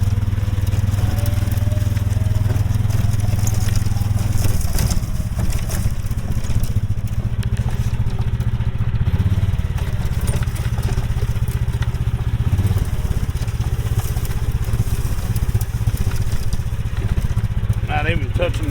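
A Club Car DS golf cart fitted with a Predator 459cc engine runs loudly in reverse while rolling down a hill, a continuous close engine drone throughout, with a person talking over it.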